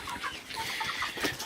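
Layer hens scrounging for scratch feed on a homestead, clucking softly in a steady, busy chatter of several birds close by.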